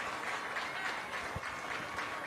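Applause from both stands at a high school football game between Lincoln and Chiles, a continuous dense clatter of many hands with low crowd rumble underneath.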